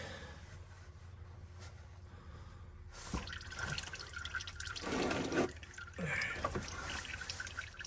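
Engine oil drains from a 2011 Nissan Murano into a pan, faint drips and a trickling pour building into a louder splashing stream in bursts, quiet overall.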